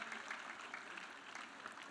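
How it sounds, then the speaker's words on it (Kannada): A school silver jubilee audience applauds Justice B. Veerappa. The clapping is steady and dense, stays fairly faint and distant, and lasts the full two seconds. "ಜಸ್ಟಿಸ್ ಶ್ರೀ ಬಿ ವೀರಪ್ಪ ಸರ್ಗೆ ಮತ್ತೊಮ್ಮೆ ಚಪ್ಪಾಳೆ ಮುಖೇನ ಧನ್ಯವಾದಗಳು"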